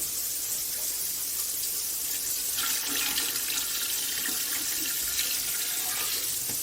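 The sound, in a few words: water running from tap filling canning pot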